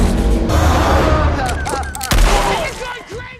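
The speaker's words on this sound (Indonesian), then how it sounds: "Aksi saling tembak terjadi." Gunfire erupts in a Django Unchained shootout, a dense burst of loud shots and booms stacked over a movie soundtrack, with voices briefly audible among the blasts.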